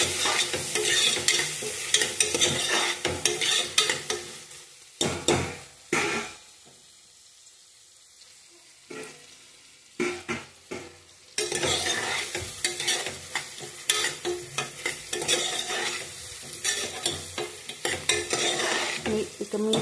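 Mutton curry with turmeric is stirred in a pan, a loud close sizzle with scraping spoon strokes in bursts, broken by a quiet pause midway before the frying and stirring resume.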